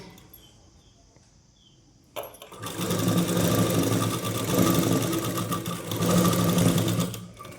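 After a quiet start with faint handling, a sewing machine starts up with a click and runs steadily and loudly while stitching a petticoat, its whir rising and falling slightly over several seconds.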